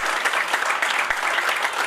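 An audience at a teacher's retirement party in Sirsa claps steadily in dense, loud applause, congratulating the teacher, with no pauses.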